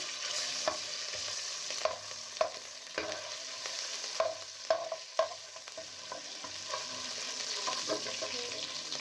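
Ginger and garlic fry in a hot pan with a steady bright sizzle, while a utensil scrapes and taps against the pan in irregular strokes, close by and with no talking.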